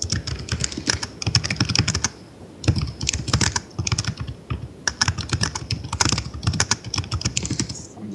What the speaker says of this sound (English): I'm just someone typing furiously.